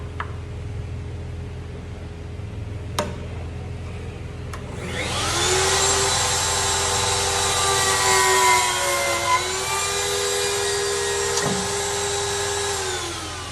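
A pocket hole machine drills angled screw pockets into a thick wooden table leg; after a couple of sharp clicks, the motor spins up at about five seconds into a steady, loud high-pitched whine that holds and dips slightly before the clip ends.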